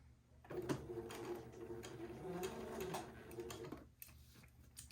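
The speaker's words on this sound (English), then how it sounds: "I'm going to sew this top shoulder seam" A sewing machine stitches the top shoulder seam of a Laura Day gown with a quarter-inch seam allowance, giving a close, steady mechanical whir with faint ticking for a few seconds before stopping.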